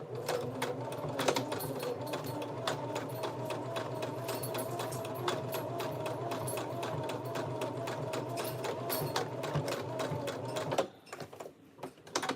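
A sewing machine sews fursuit arm sleeves, its motor humming close by with a fast, even needle rattle that runs steadily for about eleven seconds. It then stops, leaving a few faint handling noises.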